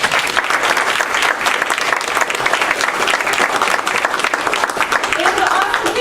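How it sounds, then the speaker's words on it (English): Press conference audience applauding its speakers, a sustained burst of many hands clapping, loud and even throughout, with a voice faintly audible beneath the clapping. "Can we give them all another round of applause?"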